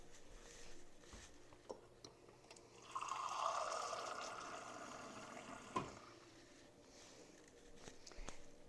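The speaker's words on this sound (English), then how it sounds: "I'm going to fill it up with hot water right quick." Hot water runs from a tap into a plain glass, a soft rising stream lasting a few seconds between quieter handling clicks and knocks, fairly close and subdued, no talking.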